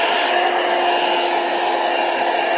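A heat gun blowing steadily as it dries tissue paper, a loud continuous whooshing roar close by with no pauses.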